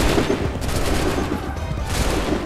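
Musket volley gunfire in the Assassin's Creed 3 video game, a dense rattling burst of many shots that is loud, then fades into rumbling echoes.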